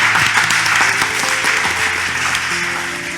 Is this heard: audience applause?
yes